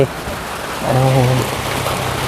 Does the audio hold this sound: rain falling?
yes